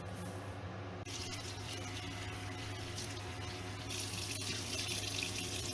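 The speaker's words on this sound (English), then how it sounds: "You can rinse it a few times." Rice being rinsed under a running kitchen tap, a steady close rush of water with a brief interruption near the start.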